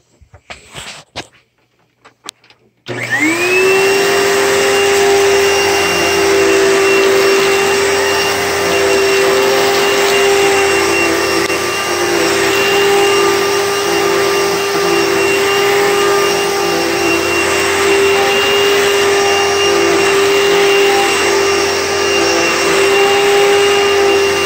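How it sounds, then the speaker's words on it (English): A Kenmore Progressive bagless upright vacuum cleaner starts after a few seconds of quiet with a rising whine, then runs loud and steady at close range with a constant high tone and broadband roar until the end. "So, there we have the Kenmore Progressive, the bagless upright."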